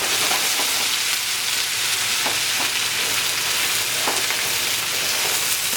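Potatoes frying in oil in a pan for potato hash, a dense continuous sizzle with small crackles and pops, close and loud, no voices.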